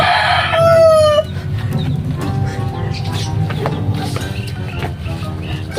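A rooster lets out a loud, close crow at the start, followed by scattered clucking and farmyard bird noises with some background voices.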